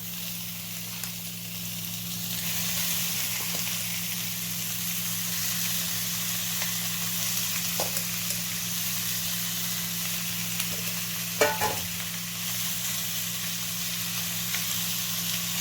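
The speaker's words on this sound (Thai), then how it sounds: "เราตั้งกระทะนะครับผมเอา 3 ชั้นลงไปนะครับ" Pork belly frying in a pan, a continuous close sizzle and hiss that holds steady throughout, with an occasional soft clink; no talking.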